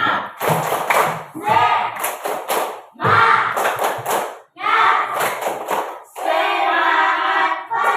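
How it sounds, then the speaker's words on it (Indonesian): A standing classroom of pupils performs the rhythmic 'tepuk semangat' clapping chant, bursts of sharp clapping in patterned groups alternating with shouted voices, loud and close, ending in a sustained group shout. "Tepuk semangat saja, tepuk semangat."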